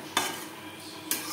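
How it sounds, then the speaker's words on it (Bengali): Two brief scrapes of a spoon against a pan, about a second apart, as boiled potatoes are stirred with spices, with a faint steady sizzle underneath. "মশলার সাথে 3-4 মিনিট আলু বেশ ভালো করে কষিয়ে নেওয়ার পর"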